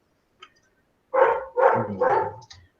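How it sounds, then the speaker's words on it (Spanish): A dog barks at a door three times in quick succession, fairly close and loud, with a faint short yelp before and after. "tienes un perro ladrando por ahí"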